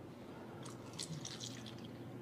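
Kangen water is poured onto a tea bag, giving soft trickling and dripping splashes with faint high spatters over a low, steady background hum.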